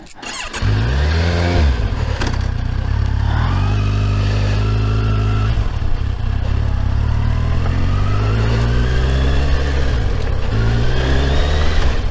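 Motorcycle engine droning steadily at cruising speed on a long, straight wilderness highway, loud and close, with a low continuous hum and broad wind rush that rises slightly in pitch throughout, no voices.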